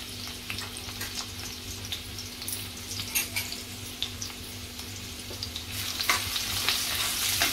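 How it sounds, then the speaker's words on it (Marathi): Crushed garlic frying in oil for a prawn and raw mango curry, a steady close sizzle with scattered crisp pops and occasional stirring scrapes, growing slightly busier toward the end, no voices. "अगदी अर्धा मिनिटच लसूण परतून घ्यायचं आहे"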